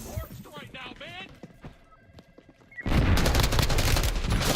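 Gunfire in the Warzone video game: a dense, loud burst of rapid shots erupts midway and continues steadily to the end, with quieter talk and scattered shots before it.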